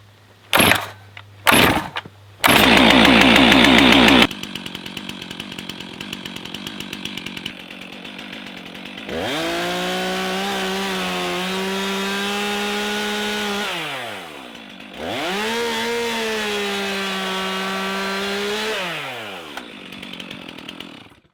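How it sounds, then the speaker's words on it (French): A chainsaw is pull-started with a few sharp tugs, then roars up and bites into wood twice, the engine pitch dipping under load between idles. "21 secondes pour la tronçonneuse, ça a pris plus de temps à l'allumer qu'à couper"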